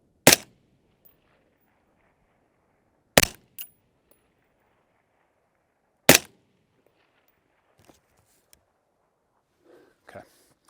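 Three sharp rifle shots from a precision rifle setup in a timed shooting challenge, spaced about three seconds apart, loud and close, each with a brief tail, followed by faint distant impact sounds and quiet voices.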